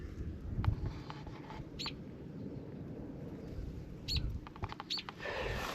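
A mother bird near her nest of babies under a truck gives a few brief, sharp chirps, scattered across a steady low rumble of background noise.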